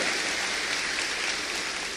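A church congregation applauds during a service, a dense, even wash of many hands clapping that carries steadily through the whole moment.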